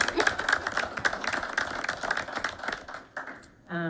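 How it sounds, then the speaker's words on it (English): Applause at a board of education meeting: a brief round of scattered clapping from a modest group, fairly faint and fading after a few seconds, with a voice starting at the end. "That deserves a round of applause."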